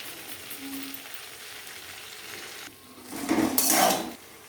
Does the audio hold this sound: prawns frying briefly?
yes